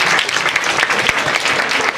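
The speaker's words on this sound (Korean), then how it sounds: "우리 어쨌든 수고한 우리 무영이 친구에게 박수" Applause from a high school chapel audience in Seoul, a dense burst of many hands clapping at once, loud and close, filling the whole moment without any voices over it.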